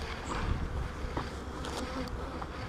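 Honeybees swarm densely around a hive stacked with two honey supers, producing a continuous close buzzing drone with occasional individual bees zipping past, steady and unbroken, without speech.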